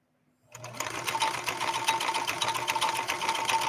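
A 1970s Kenmore 158.13520 sewing machine starts up after a brief silence and stitches at a steady, fast, mechanical rhythm, close and fairly loud.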